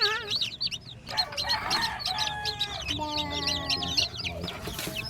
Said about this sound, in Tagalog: Ito yung sisiw.